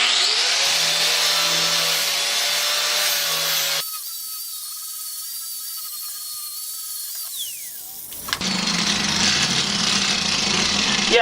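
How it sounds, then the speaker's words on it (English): Metabo 4.5-inch angle grinder fitted with a fresh flap disc grinding metal, loud and close, with a steady high whine and rough abrasive rasp in two bursts around a quieter spell where the motor spins freely. "I put a fresh flap disc on here, and let's do some grinding and see how that works"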